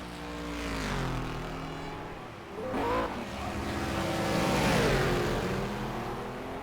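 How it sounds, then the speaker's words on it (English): GT2 race cars in a racing game accelerate hard out of the final corner at Bahrain, engines climbing through rising revs and upshifts as two cars pass close by, loud and without talk. "They accelerate out of the final corner."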